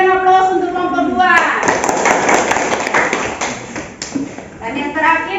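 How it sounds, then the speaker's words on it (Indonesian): Audience applause for a student group in a classroom, a burst of clapping that follows a speaking voice, then fades as talk resumes. "kita berikan aplaus untuk kelompok 2"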